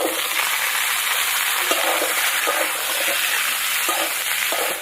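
Onion, cauliflower and green chili fry together in a pan with a loud, dense sizzle, broken by occasional soft stirring knocks.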